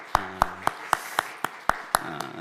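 A church congregation at a New Year's Eve service claps in thanks. The claps come as evenly spaced, crisp beats, about four per second, at a fairly quiet level, with a faint low hum beneath them.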